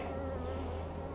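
A dense, steady drone of many honey bees buzzing close by at an open hive, a continuous low hum without pauses.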